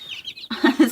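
Chickens and roosters give a short burst of clucks and chirps nearby, a few quick calls within a moment.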